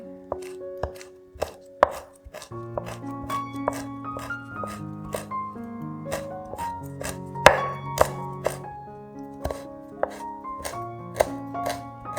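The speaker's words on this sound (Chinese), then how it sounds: "将风干叶卷起来，切丝，放入碗里备用" Knife chopping rolled-up dried leaves into shreds on a board for a vegan rendang turmeric rice, a brisk run of close, crisp taps with steady rhythm and tonal background music underneath.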